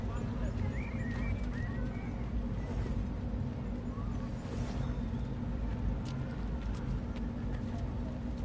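Horse hooves clip-clop steadily through Assassin's Creed 2, a continuous rhythmic trot set against dense game ambience while voices speak over it.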